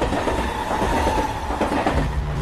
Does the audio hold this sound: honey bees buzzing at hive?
no